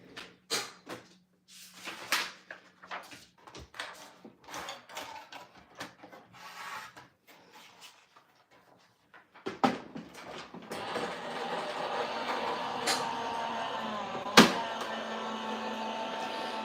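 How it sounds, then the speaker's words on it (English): A die cutting machine used for papercraft runs with intermittent clunks and rattles at first, then settles into a steadier, louder mechanical whirr with a sharp knock near the end; no voices are heard. "So I'm going to run this through my die cutter machine now, so it might be a bit noisy."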